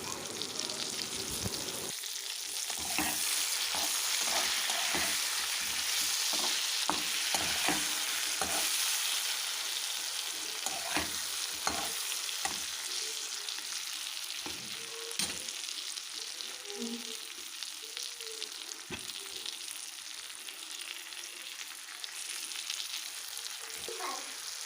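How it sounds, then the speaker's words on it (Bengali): Rohu fish curry with salt, turmeric and cumin powder fries in a pan. It is stirred with rapid, repeated scraping strokes over a constant close sizzle, and the stirring eases into a gentler bubbling fry toward the end. "দিয়ে আমি ভালো করে নেড়ে চেড়ে নেব"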